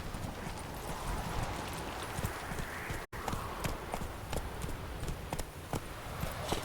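The horse Roach gallops in The Witcher 3: Wild Hunt, rapid rhythmic hoofbeats drumming steadily and close over a dense ambient bed, with a brief dropout midway.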